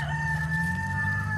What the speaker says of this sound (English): The rooster doesn't just crow in the morning.